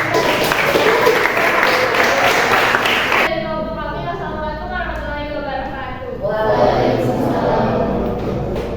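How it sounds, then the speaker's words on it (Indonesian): Dense applause from a university teacher-training class fills the opening seconds, then gives way to a voice speaking, with the crowd noise fading underneath. "Kita kasih tepuk tangan"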